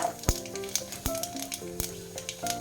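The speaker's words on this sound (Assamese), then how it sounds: "এতিয়া সেই একেখন কেৰাহীতে তেলত কেইটামান পাঁচফোৰণ দি দিছোঁ" Panch phoron spices crackling in hot oil in a kadai, with irregular sharp pops and spits over a soft sizzle.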